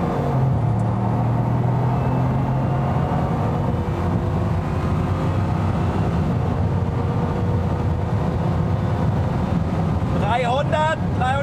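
Bugatti Chiron Sport with its 1,500-hp engine accelerating at full throttle toward 316 km/h, a loud, sustained, rising engine roar mixed with heavy wind rush throughout, with a brief squealing sound near the end.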